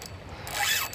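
A Runcl Titan 2 spinning reel cranks in a redfish, giving a brief close mechanical whir of gears and a ratcheting click, heard alone without talk.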